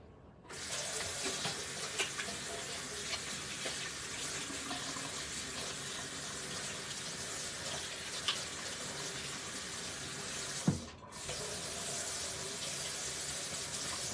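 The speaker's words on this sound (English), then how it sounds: "let me wash my hands" Hands are washed under a running kitchen tap while making sourdough bread dough, a steady close hiss of flowing water that cuts off briefly near the end and then resumes.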